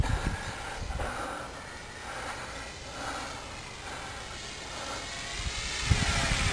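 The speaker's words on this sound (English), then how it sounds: "that's about half throttle with this plane" An 800mm nitro-powered Corsair RC model plane's engine hums steadily at half throttle in the distance over low, gusty wind rumble, holding an even pitch throughout.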